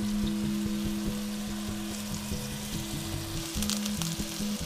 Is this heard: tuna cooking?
yes